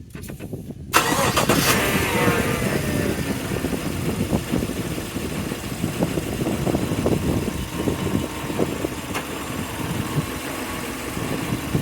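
A Cadillac Escalade or Chevy Tahoe V8 engine cranking and firing up after a battery replacement, a short start burst that settles into a loud, steady, close idle rumble, with no talking.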